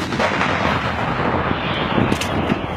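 Howitzer artillery fired during a NATO exercise in Latvia, a loud, dense barrage of booming blasts and rumbling reports that continues without pause and with no voices.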